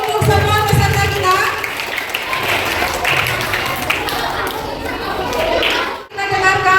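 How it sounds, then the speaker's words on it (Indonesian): Children at a school Easter celebration clap for quiz participants, a lively spell of applause close by with talk mixed in, briefly dipping before resuming. "tepuk tangan dulu untuk semua peserta kita."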